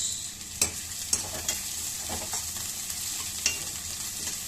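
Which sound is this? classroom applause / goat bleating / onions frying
onions frying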